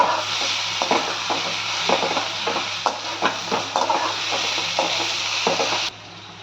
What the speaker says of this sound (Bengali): রসুনটাকে একটু ভেজে নেব।